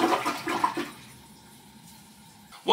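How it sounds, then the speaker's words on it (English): A toilet, just unclogged with dish soap, flushes with a loud rushing swirl up close, then fades to a low hiss of refilling water before a fresh surge at the very end. "just give it a flush and it should clear"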